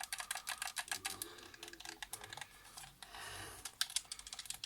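Buttons on a repaired PS4 controller being pressed, a quick irregular run of light plastic clicks close by, fairly quiet with no talking.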